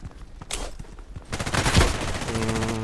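Machine gun fire in the Contract Wars shooter game: a brief sharp shot early on, then a dense, steady burst of automatic fire that runs loud to the end with a tonal hum underneath.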